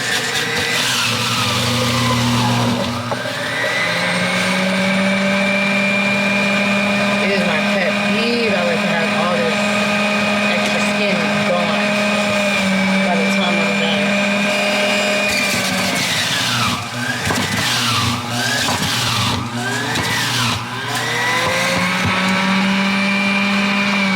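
A motorized juicer runs on peeled cucumbers, its steady high whine holding for long stretches and shifting pitch as pieces are fed in, loud and close without any talking.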